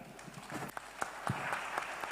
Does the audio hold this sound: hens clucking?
no